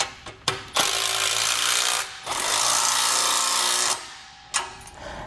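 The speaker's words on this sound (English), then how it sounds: "Now we'll just tighten up all the bolts." A power tool tightens bolts on a Malone MicroSport boat trailer during assembly, running in loud close bursts: two quick blips, then two long sustained whirring runs, then a final short burst.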